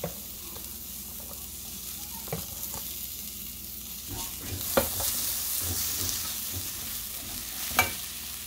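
Chopped onion sizzles steadily in hot oil in a 2.5-quart saucepan, with a spoon stirring and scraping the pan now and then, producing a few sharp clinks over the constant frying hiss.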